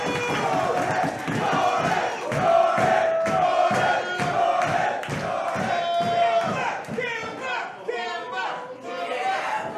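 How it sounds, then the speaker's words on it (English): A Worcester crowd at a women's wrestling match roars and chants in a loud rhythmic pattern, then the noise thins out as a commentator starts talking. "This Worcester crowd clearly has a favorite."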